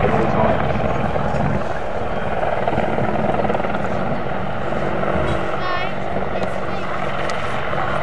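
A British Army Air Corps Apache attack helicopter flies at the Farnborough airshow, its rotor and engine roar steady and fairly loud while an announcer talks over the top.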